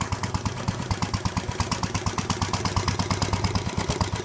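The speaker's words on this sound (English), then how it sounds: "No, it's like an old hit and miss, like agricultural engine." An old hit-and-miss agricultural engine chugs steadily with a regular, rapid thumping rhythm, running continuously and fairly loud throughout.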